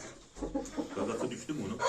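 A prized rooster clucks in a few low, close bursts, with some faint background voices or noise around it.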